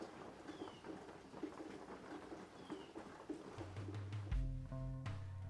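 Steady rain falls as a dense outdoor hiss. Near the end, some sustained tones rise over it.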